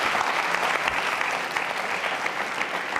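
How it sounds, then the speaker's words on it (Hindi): A dense, steady round of applause from an audience at a school quiz show about Lord Mahaveer, with continuous clapping that holds at an even loudness throughout. "तालियां जोरों से बजाइए इनके लिए आप।"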